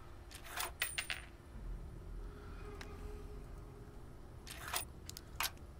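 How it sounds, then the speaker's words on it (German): Coins drop into a chest in the adventure game Adam Wolfe: a few small metallic clinks and jingles, quiet and close, come in two short clusters with near-silence between them. "Nur noch eine Münze, die Kiste sollte aufgehen."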